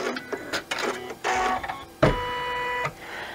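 An embroidery machine stitches down a zippered coin purse in the hoop, giving a close mechanical whirring with rhythmic needle clatter and a sharp knock partway through.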